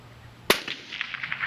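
A 6.5 Creedmoor Savage Stealth Evolution rifle fires once at an unknown-distance target: a single sharp, loud crack, followed by a fading tail and a few faint clicks and ticks, with no talking.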